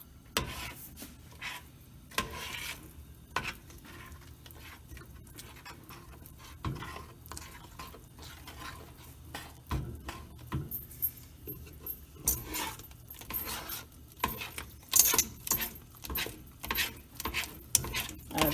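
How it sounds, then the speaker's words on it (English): Playdough being stirred in a cooking pot, a steady run of soft scraping and rubbing strokes with occasional light clinks of spoon on metal, fairly close and moderately quiet, no talking. "See how I have to keep stirring it so it doesn't stick and burn?"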